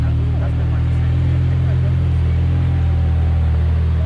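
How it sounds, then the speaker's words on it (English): A supercar engine idles loud and close at a London car show, a steady deep throbbing rumble that holds for several seconds with slight shifts in pitch. "Listen to that engine."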